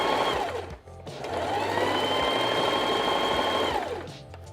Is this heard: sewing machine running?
yes